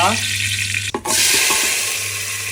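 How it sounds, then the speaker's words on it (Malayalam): Fenugreek seeds fry in coconut oil in a hot clay pot, giving a loud, continuous sizzle and crackle. A brief dip and a scrape of stirring break it partway through, then the hiss resumes. "ചട്ടി ചൂടായി വന്നതിന് ശേഷം വെളിച്ചെണ്ണ ഒഴിച്ചു കൊടുക്കുക ഉലുവ"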